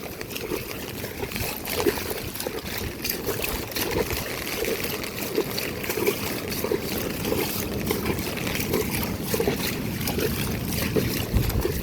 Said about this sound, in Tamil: கடல் சரியாக அடிக்குது கடலை.